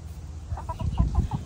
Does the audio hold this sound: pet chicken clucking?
yes